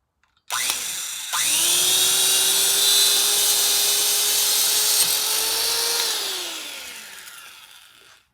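A small Powr Kraft electric drill whirs up to a steady high-pitched whine after a brief start, runs for several seconds, then winds down as it stops.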